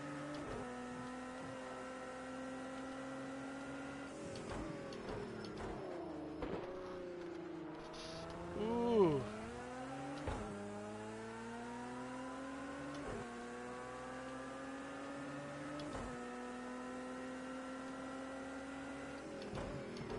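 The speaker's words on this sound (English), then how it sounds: "Car is just so loose. You can hear it just trying to slide out from underneath of me." Simulated GT3 race car in Project Cars 2 at Zhuhai, its engine note rising and falling steadily as it shifts and slides loosely, with one brief louder squeal of tires partway through.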